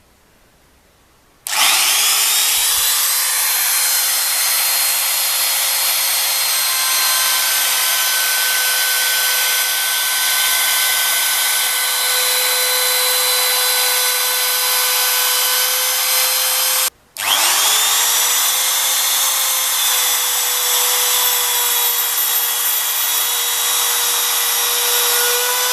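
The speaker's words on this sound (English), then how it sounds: "I'm going to do that using my new Von House router" A new Von House router rounding over wooden edges while restoring a 1910s pop gun, a loud steady high whine running continuously, cutting out briefly and spinning back up, with no talk.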